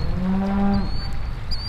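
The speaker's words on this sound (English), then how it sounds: "Cows are super pissed off at you right now." A cow gives a loud, close, drawn-out moo during an overland trip in Oregon, alone with no talk, over a steady low background rumble.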